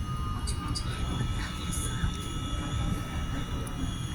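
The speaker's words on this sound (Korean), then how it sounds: "어 뭐야 저기도 큐브 열차 있다" A train rumbles steadily along the rails near Jemulpo in Incheon, with a constant low roar and faint high squeals, close by throughout.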